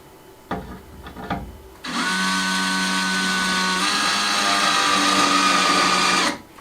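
A power drill drives a screw into a handmade wooden door, whirring steadily and loudly for about four and a half seconds with a slight pitch drop midway, after a few short knocks and handling sounds.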